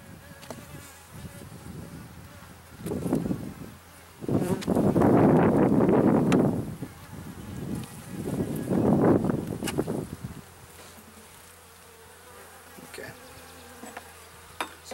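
Honeybees buzz during a hive inspection after installation, the swarm noise swelling into two loud bursts near the microphone, then dropping to a softer steady hum with light wind noise.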